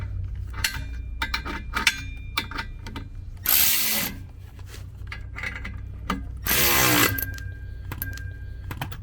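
A 13 mm ratchet tightens a bolt on a Tesla's rear suspension, giving repeated short clicking bursts up close, broken by two longer rasping runs, with no talk.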